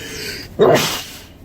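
A single sharp sneeze bursts out mid-clip over a steady background hum, then trails off quickly.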